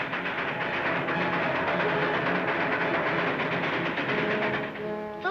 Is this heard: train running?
yes